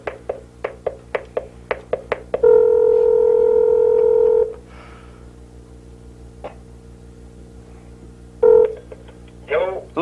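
Telephone keypad tones from a game-show phone-a-friend lifeline call: a quick run of short dialing beeps, then a long steady ringback-like tone, a pause, and a brief final beep, heard clearly with little else around.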